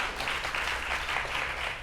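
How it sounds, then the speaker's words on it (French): Studio audience applause on a television talk show, a dense, continuous clatter of many hands at moderate volume, briefly rising and falling without a break. "Ah, on applaudit"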